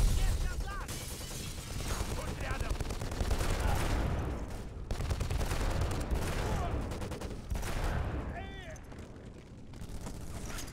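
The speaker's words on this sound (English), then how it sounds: "There is a lot of shooting going on out there." Constant gunfire and explosions from the video game Black fill a city street battle, with bursts of automatic fire and booms throughout, while radio voices talk over the din.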